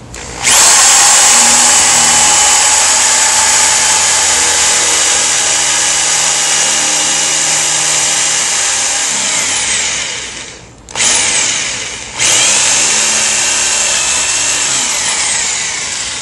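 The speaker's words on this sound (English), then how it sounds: "I'm going to drill through this panel, both the wood and the plastic with the wood drill bit" A power drill with a wood bit whines loudly and steadily as it bores through a wood and plastic mobile home skirting panel, briefly stopping twice before grinding on.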